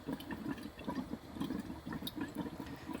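A water tap on a houseboat beginning to run as water is drawn up from the tank, a faint, irregular sputtering gurgle of quick pulses.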